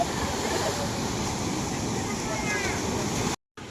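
Surf rolling in at Sundak beach in Gunungkidul, a continuous loud wash of waves mixed with wind buffeting the microphone, cut off abruptly just before the end.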